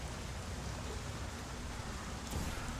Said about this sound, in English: How do I turn the rain off?